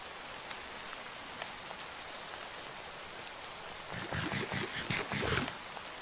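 Rain falls in a faint steady patter, with a louder burst of splashing drops near the end and no voices.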